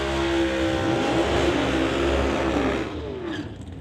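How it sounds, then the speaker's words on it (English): Blue Max Bel Air drag car leaving the line at a drag racing event: a loud, sustained engine roar that holds steady, then drops and fades away near the end. "Warren coming out of Cloverdale in the Blue Max Bel Air"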